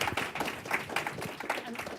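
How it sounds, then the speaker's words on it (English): Applause from a panel-discussion audience, a steady mid-level patter of clapping running the whole way through, with faint voices mixed in. "Let's give a round of applause to our panelists."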